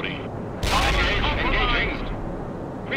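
A sudden loud burst of gunfire and explosions in World in Conflict erupts after a moment of quieter ambience, roaring for over a second before easing off, with voices over the battle.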